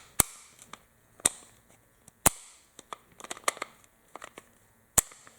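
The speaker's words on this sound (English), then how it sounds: "It wobbles, which you can see and hear." Glock 17 magazine wobbling and knocking inside a mag vise block, producing sharp plastic clicks and rattles in an irregular scatter, a few louder snaps among softer taps, close and without speech.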